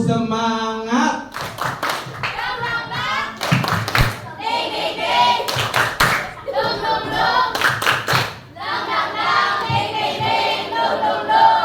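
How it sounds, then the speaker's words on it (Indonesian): A class of children claps a rhythmic spirit-clap routine together, sharp bursts of hand claps in patterned groups with brief pauses, close and loud, with young voices chanting along between the clap runs. "mari kita tepuk semangat"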